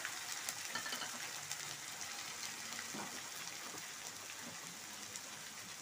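A paste of onion, ginger, garlic, chili and cumin sizzles in fish oil, making a steady, dense hiss and crackle that stays loud and even throughout with no voices.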